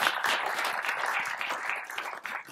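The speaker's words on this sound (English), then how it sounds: "if we could give a round of applause" An audience at a data storytelling and visualization panel applauds steadily, with dense, even clapping that holds for a couple of seconds and then begins to thin toward the end.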